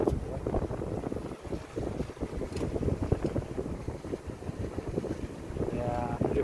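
A 119 marine rescue boat passes through the Tongyeong Canal beneath Chungmu Bridge, throwing up spray. Its rumbling wash rolls on continuously while wind buffets the microphone throughout.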